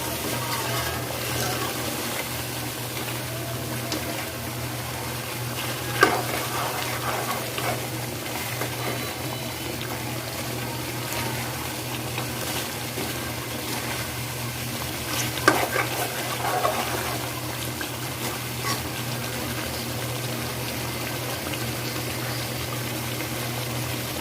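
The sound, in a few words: beef sizzling and being stirred in pan for biryani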